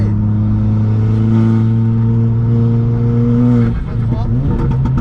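A 336 hp Polo GTI on a track day at Le Luc drones loud and steady under load, then the pitch drops and shifts near the end as the car changes gear.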